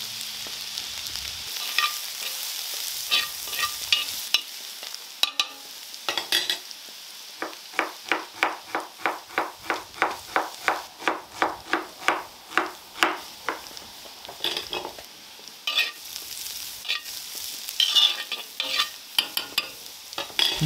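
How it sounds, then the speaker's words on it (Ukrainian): Carrots fried quickly in a pan with rendered sheep tail fat crackle under a long run of rhythmic spatula scrapes and stirring knocks, close and continuous, with no speech. "З пательні вибираємо курдюк і швидко обсмажуємо моркву."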